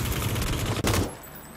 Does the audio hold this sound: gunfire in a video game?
yes